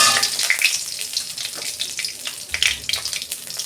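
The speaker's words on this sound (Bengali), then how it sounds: "তেল দিচ্ছি, আমি একটা ফোড়ন দেবো। একটা শুকনো লঙ্কা, একটা তেজপাতা দিচ্ছি।" Dried red chili and a bay leaf sizzle in hot oil for a dal tempering, a steady crackling hiss with small pops throughout, close and fairly loud with no talking.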